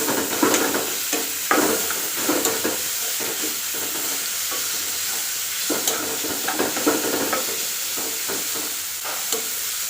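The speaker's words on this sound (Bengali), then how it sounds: "এখন দিচ্ছি কাজু আর কিশমিশগুলো একটু ভাজা করে দেব একসঙ্গে।" Cashews and raisins fry in oil in a pan for Bengali poha while being stirred: a steady close sizzle with repeated scraping and clinking stirs throughout.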